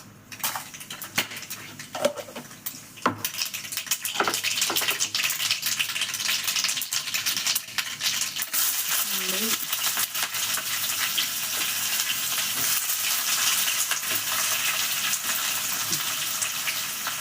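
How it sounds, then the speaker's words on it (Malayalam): Mustard seeds hit hot oil for a jackfruit curry, breaking into a dense, crackling sizzle that builds after a few early clinks and keeps spluttering steadily and close by. "അപ്പോൾ നമുക്ക് കടുകിട്ട് കൊടുക്കാം"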